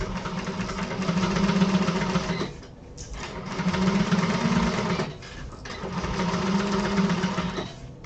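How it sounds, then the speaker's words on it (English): Sewing machine chain stitching fabric pieces one after another: three sustained bursts of steady, humming stitching, close and clear, separated by short pauses. "I'm going to chain stitch these so I can save cutting"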